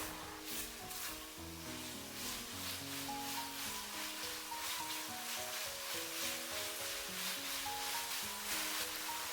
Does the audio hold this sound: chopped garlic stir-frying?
yes